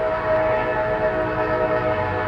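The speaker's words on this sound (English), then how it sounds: "That fucking train." A passing train rumbles steadily with a sustained whistle or horn tone held throughout, loud and close, with no talking.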